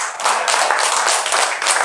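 A church congregation claps in a dense, steady burst of many hands, loud and close, with no words spoken over it.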